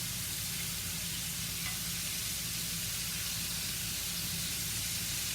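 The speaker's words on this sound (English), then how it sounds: "Y'all see me fry chicken." Seasoned chicken wings fry in a pan of hot oil with a loud, continuous close-up sizzle and hiss that stays even from start to finish, with no voices.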